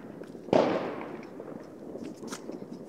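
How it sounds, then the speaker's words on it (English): A single firework bursts with a sharp broadband bang, then a rumbling decay and faint crackles, sounding distant as it carries across roughly 5 km from a neighbouring village during New Year's Eve celebrations. "You want to see the fireworks?"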